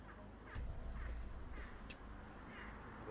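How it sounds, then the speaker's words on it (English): A crow caws a few times at a distance, faint sharp calls spaced out over a steady background hiss. "That's a bird."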